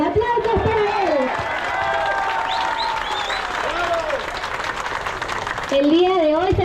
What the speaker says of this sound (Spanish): le voy a pedir fuertes aplausos que nos acompaña nuestro alcalde Franco Vidal